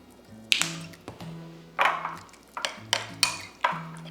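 A new jar of Dijon mustard being opened in a kitchen, with sharp close clicks, taps and clinks of lid and glass in an irregular series, over a faint background tone.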